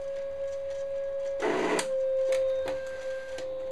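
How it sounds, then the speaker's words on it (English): An eCraft cutting machine pulls paper from its tray with a short grinding, rasping burst followed by a few fainter clicks, all over a steady electronic whine and low motor hum, near and moderately quiet. "my eCraft is making that noise when it pulls from the tray"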